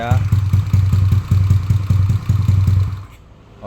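A Honda Beat scooter with a carburetor engine idles close by with a steady, pulsing mechanical putter for about three seconds before it drops away, with a voice speaking briefly over it.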